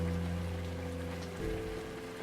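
Steady rain patters in a cozy cafe in the video game Rainswept, a continuous soft wash of drops on surfaces with a low hum beneath, even and unbroken throughout.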